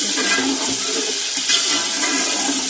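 Chicken frying in about a cup of hot oil gives off a loud, dense, continuous hiss and sizzle that holds steady throughout with small crackling bursts.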